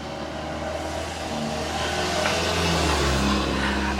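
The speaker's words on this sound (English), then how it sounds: "I apologize for all the noise with the traffic" Road traffic rumbles outside, a steady broadband wash of passing vehicles that grows louder as an engine approaches and builds toward the end, with no voices.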